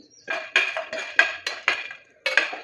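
Pumpkin seeds roasting in a pan with half a spoon of oil, stirred so they rattle and scrape against the metal in a string of short, fairly close clattering bursts with brief pauses between them.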